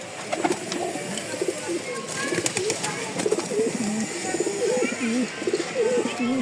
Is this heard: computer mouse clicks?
no